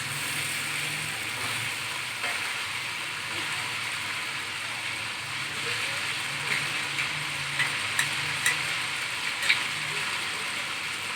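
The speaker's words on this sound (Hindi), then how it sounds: "लहसुन अदरक का पेस्ट अच्छी तरह भुन चुका है।" Chicken pieces frying with garlic ginger paste in a karahi, a steady close sizzle with faint stirring clicks and scrapes through the whole stretch.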